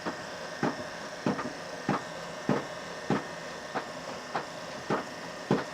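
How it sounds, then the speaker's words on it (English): A high-pressure hydrojet sprays inside an RV holding tank, breaking up buildup. It gives a rhythmic series of hollow, splashy bursts about every half second over a constant mechanical hum. "we're hydrojetting now, so we're just breaking stuff up in the tank"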